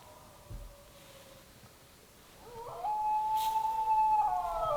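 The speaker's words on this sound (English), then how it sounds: "howling dog. It's your typical high country morning call." Dog howling on a frosty high country morning in the Australian hunting bush, a faint thin howl rising after a quiet start and holding long drawn notes near the end.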